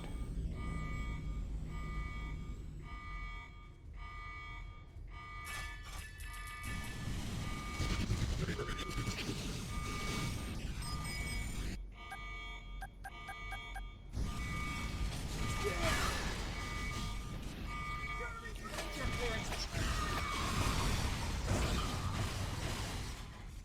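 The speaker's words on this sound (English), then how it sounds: "the alarm sound stopped, but the gate is still up" An alarm in the video game Metal Arms: Glitch in the System beeps repeatedly in a steady pulsing tone over game noise and mechanical rumble, continuing for most of the stretch.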